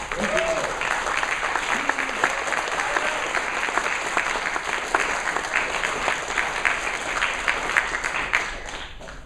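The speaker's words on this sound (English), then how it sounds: "how about a big round of applause for one of your fellow" Sustained applause from an audience at a technology innovation event, steady dense clapping filling the whole stretch at a fairly loud level, with a brief voice heard faintly near the start.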